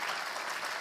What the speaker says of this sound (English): So please help me give them a warm round of applause, Secretary Cardona